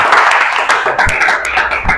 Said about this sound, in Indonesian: Tepuk tangan dulu untuk Christian.